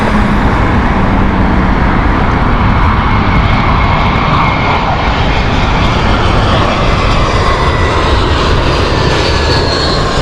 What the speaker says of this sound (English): This is the British Airways flight Airbus A320. Clear land, runway 27 left